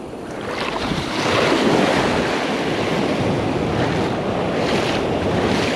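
Ocean waves break and wash along a beach in the surf at a surf fishing spot, a loud rolling roar with heavy wind buffeting on the microphone and no talking.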